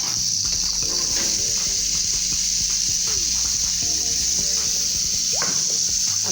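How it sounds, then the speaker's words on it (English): Peppers sizzle steadily in melted butter in a hot pan, with light clicks and scraping as they are moved around, close by and continuous. "Now that it's melted, I'm going to go in and pour all of my peppers."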